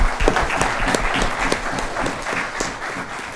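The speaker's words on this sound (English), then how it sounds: "Let's have a round of applause for them." An audience at an awards session claps for top-ten finalists, a loud, close round of applause with distinct individual claps popping out of the steady patter throughout.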